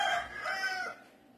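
Roosters crow on a rural property in Puruándiro, Mexico, with one loud, clear cock-a-doodle-doo from a nearby bird that fades into a quieter tail, and no talk over it.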